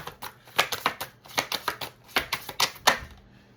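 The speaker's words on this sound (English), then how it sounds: "All right, one more shuffle." Rapid riffling of a tarot card deck, several quick crisp bursts in a row, close and fairly loud, ending with a brief low hum.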